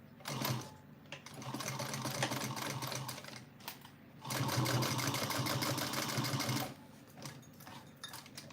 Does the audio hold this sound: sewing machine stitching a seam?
yes